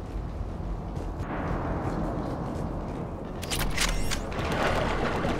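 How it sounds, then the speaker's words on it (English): Gunfire in the video game Mass Effect 3 comes as a burst of sharp cracks partway through, over a constant loud rumbling battlefield ambience with no speech. "Gunfire. They are near."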